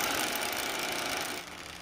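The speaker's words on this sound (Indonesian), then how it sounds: "Untuk tiangnya. Kita bor." A power drill runs in a steady, continuous whir while boring into a light steel fence post outdoors, droning loudly throughout before easing slightly toward the end.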